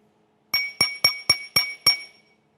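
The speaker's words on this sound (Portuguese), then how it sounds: "Os sons produzidos nesses objetos de vidro são iguais ou diferentes?" A small glass cup struck six times at an even, quick rhythm, each strike a bright ringing clink that decays briefly before the next, close and clear with silence around.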